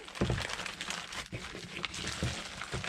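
Plastic bags crinkle and rustle up close as an object is double bagged, with soft irregular crackles over a couple of seconds and no talk.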